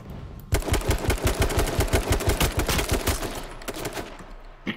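Rapid shotgun fire in the battle royale game H1Z1, a loud, dense burst of overlapping blasts that repeats steadily for several seconds before easing slightly near the end.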